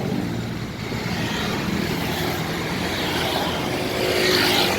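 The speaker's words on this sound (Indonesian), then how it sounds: "Test drive Hino Dutro double cabin." A Hino Dutro 300 136HD double-cabin truck converted to 4x4 drives past with a steady, loud engine drone and road roar that swells slightly toward the end.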